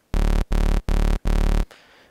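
A clean bass synth patch made in Native Instruments Massive plays four sustained, evenly spaced notes with a deep, full low end, loud and alone, and a faint tail follows the last note.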